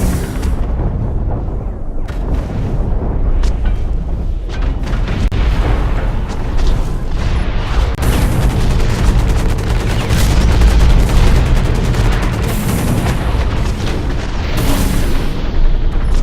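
Grenade blasts and dense gunfire in the mech combat game Hawken, a loud continuous barrage of booms and rapid shots filling the whole stretch without a break.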